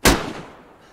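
A single gunshot in the video game DayZ cracks out sharply, loud and close, then trails off in a short echoing decay.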